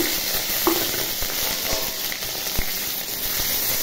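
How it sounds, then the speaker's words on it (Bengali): Chopped onion, garlic and dried chili pieces sizzle steadily in hot oil in a wok, a loud continuous frying hiss up close with a few soft knocks from stirring, no voices. "কড়াইয়ে তেল দিয়েছি বন্ধুরা, গরম হয়ে গেছে। এর সাথে দিয়ে দেব পেঁয়াজ কুচি, রসুন কুচি, শুকনো লঙ্কার টুকরো এগুলো দিয়ে দিলাম।"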